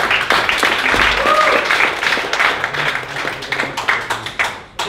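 An audience at a blockchain meetup in Berlin gives a brief, modest round of applause, a dense patter of clapping that thins out toward the end, with some talking mixed in.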